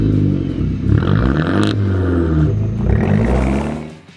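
A turbocharged four-cylinder Italian sports car engine revs loudly and steadily, its deep growl rising and falling for several seconds before cutting off at the end.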